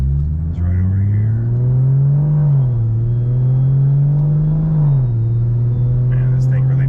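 A turbocharged car accelerates on a straightaway under light throttle, its engine a steady, loud low drone that rises and dips in pitch across the run, heard from inside the cabin.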